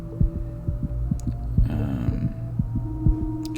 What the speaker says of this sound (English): You can hear the heartbeat going.